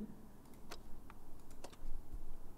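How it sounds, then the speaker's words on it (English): Typing on a computer keyboard, a handful of light scattered key clicks at an irregular pace, quiet and close, with no talking. "I'm typing, right?"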